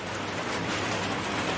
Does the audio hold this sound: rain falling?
yes